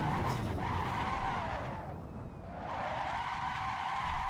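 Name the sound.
car power sliding and skidding in a racing video game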